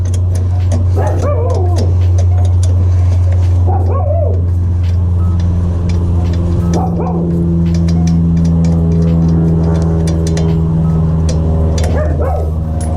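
A small dog yaps in a few separate bursts spread over several seconds, above a steady low engine-like hum.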